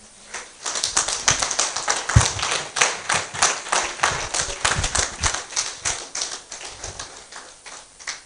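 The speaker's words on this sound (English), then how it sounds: "Another round of applause" Conference audience applause after a presentation, many hands clapping in a steady dense patter for several seconds, with some louder nearby claps, swelling and then thinning slightly toward the end.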